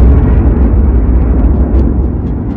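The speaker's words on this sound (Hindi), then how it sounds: "बीच के इस भयंकर दबाव के कारण एक विशाल विस्फोट हुआ" Huge, deep explosion sound effect depicting the birth of the Sun, a dense low rumbling roar that starts abruptly and loud, then churns on heavily without letting up.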